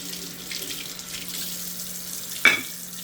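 A kitchen tap runs into the sink for a quick rinse, giving a steady soft hiss of water with a brief splashy burst near the end.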